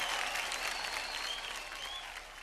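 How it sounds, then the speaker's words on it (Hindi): Dense applause from a television dance show audience for its guests, sustained steady clapping that fades slightly toward the end, with a few faint cheers or whistles mixed in. "हमारे सारे मेहमानों के लिए जोरदार तालियां।"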